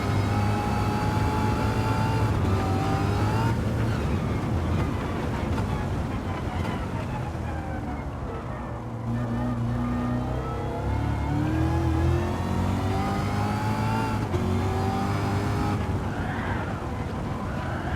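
A lightweight roadster in Gran Turismo 7 accelerating hard, its engine note climbing through gears with brief dips at shifts, loud and continuous, with a voice talking over it.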